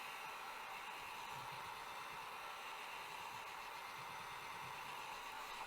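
A heating tool warming the pickguard on a 1948 Martin 00-17 guitar gives off a continuous even blowing hiss, faint and steady, with no voices.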